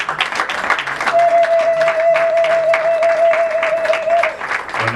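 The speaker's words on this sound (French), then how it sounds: "J'aimerais assez qu'on puisse l'applaudir très très fort." A church audience applauds loudly and steadily for the birthday of Reverend Jacques Cambal, the dense clapping holding throughout alongside a sustained held tone from music or a microphone.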